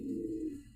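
A racer or satin pigeon gives a single low, close coo in under a second, with no talk over it.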